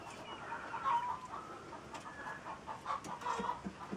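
Laying hens in a poultry yard give a steady run of soft clucks and murmurs, close and moderately loud, with a few brighter calls standing out.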